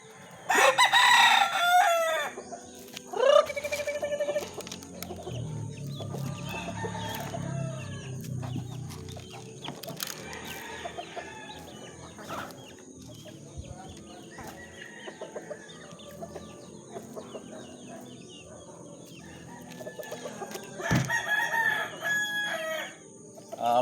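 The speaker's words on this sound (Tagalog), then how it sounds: "At pakainin muna natin ating alagang mga manok." Chickens cluck and squawk nearby while roosters crow loudly at the start and again near the end, over a busy farmyard background.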